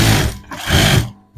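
A sewing machine stitches a petticoat hem, running in two loud, close, continuous whirring bursts with a short dip between them.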